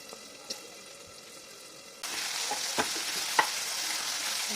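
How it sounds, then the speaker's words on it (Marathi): Fresh peas go into hot oil in a pan for a soya paneer pulao. Soft background noise gives way to a steady, close sizzle and frying hiss, with a few light stirring knocks, and nobody speaks. "अर्धी वाटी वटाणे फ्रेश वटाणे झाकण ठेवून छान शिजू देऊया"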